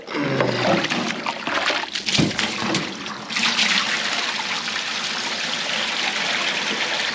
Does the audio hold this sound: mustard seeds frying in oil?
no